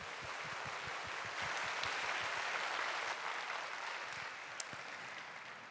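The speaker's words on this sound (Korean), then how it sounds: "우리 인사하실 때 우리 축복을 담아서 박수로 환영하겠습니다" Church congregation at a young adults' worship service applauding to welcome four newly baptized members, a broad steady wash of clapping with some distinct nearby claps, sustained throughout.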